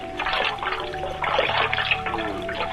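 Cold water splashing and pouring in an old-time radio drama scene, a steady wet rush that swells midway, played alone without talk.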